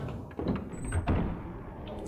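A door opening in the video game Resident Evil 4, heard as a low creaking swing with two dull thuds close by, alone without any talk.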